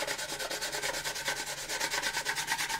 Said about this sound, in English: Just go with the weight of the sandpaper.